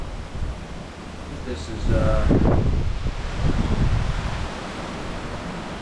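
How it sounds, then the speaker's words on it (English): Strong outdoor wind buffeting the microphone in loud low rumbling gusts, peaking around the middle, as someone speaks a few words over it. "The wind's blowing like crazy today."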